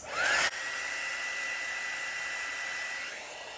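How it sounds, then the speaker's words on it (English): A heat embossing tool blows hot air over high-flow acrylic paint in a Dutch pour, a steady close whirring hiss that starts with a short louder burst and runs on evenly with no talk. "I'll just now use the heat embossing tool"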